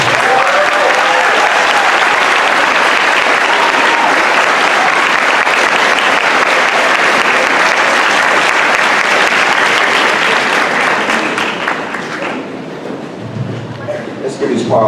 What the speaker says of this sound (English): Let's give this powerful woman another round of applause.